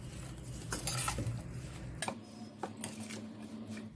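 A spoon stirs spices and oil into green chillies for pickle, scraping and clinking against a metal bowl in close, irregular strokes.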